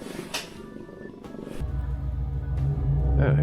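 A house cat purring, a soft rhythmic rumble that grows steadier and louder in the second half, with brief rustling and handling noises over it.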